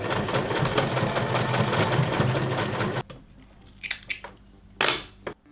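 A sewing machine runs fast and steady for about three seconds while stitching the outer fabric of a hoodie hood, then stops, leaving a few short clicks and fabric handling sounds.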